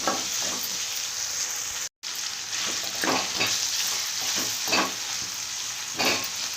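Onions with a little salt sauté in a pan for rice rava upma, giving a steady close sizzle broken by repeated stirring scrapes and one brief gap.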